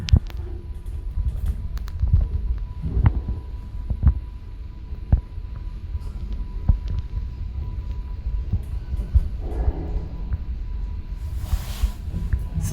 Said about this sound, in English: It's got an eco disc motor.